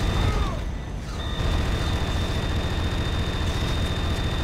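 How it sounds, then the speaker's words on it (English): A charged firestorm cannon fires in a video game set in Harbor 9, producing a loud, sustained roaring blast with a steady high whine, filling the whole stretch with dense rumbling noise. "Charged firestorm cannon."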